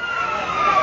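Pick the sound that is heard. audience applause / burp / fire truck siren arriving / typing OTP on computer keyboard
fire truck siren arriving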